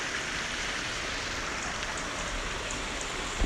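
Cold mountain stream flowing steadily outdoors, a broad, even wash of water noise that stays constant throughout with no voices.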